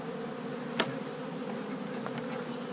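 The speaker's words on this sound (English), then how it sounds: "Might just be a matter of shaking a few bees." Honeybees buzz steadily during a hive inspection, a dense continuous hum close by with a brief sharp knock partway through.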